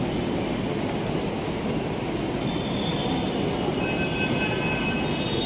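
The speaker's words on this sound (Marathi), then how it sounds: "ही आपली आलेली आहे मेट्रो." A Pune metro train pulls into the station with a loud, continuous rumble and rolling roar, plus faint high wheel squeals toward the end.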